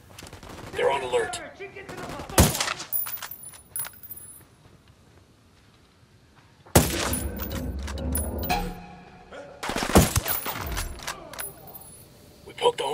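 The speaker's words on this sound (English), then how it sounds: "Opening fire." Bursts of automatic gunfire in the video game Ghost Recon, sharp loud volleys in several clusters separated by quieter stretches, with voices talking between the shots.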